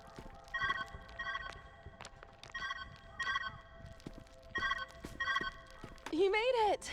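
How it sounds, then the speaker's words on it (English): Telephone ringing in the puzzle game Viewfinder, repeated double bursts of a bright electronic ring heard over a low background hum, followed by a brief rising warbling tone at the end. "Where's that ringing coming from?"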